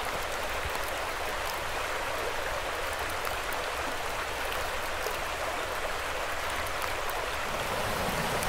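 A Scottish river rushes steadily along a hiking trail, a constant broadband wash of flowing water, close and moderately loud, unbroken for the whole stretch.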